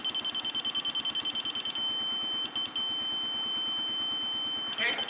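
A laser screed receiver at a concrete pour beeps at grade. It gives a rapid string of high beeps that turns into a steady tone, with a few brief breaks, over a pulsing machine rumble.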